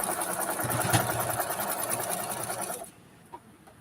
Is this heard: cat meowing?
no